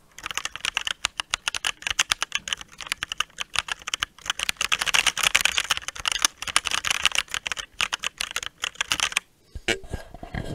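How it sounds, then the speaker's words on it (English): Typing on an ASUS ROG Falchion ACE mechanical keyboard, recorded close up: a dense, fast run of crisp key clacks fills about nine seconds, then a short pause and a few scattered presses. "I'm gonna move my microphone close to the keyboard and do a quick listen"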